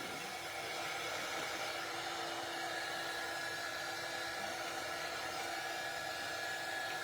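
A hair dryer blows steadily on wet paint on mason jar inserts, a loud continuous whooshing roar that runs unbroken for about seven seconds with no talking.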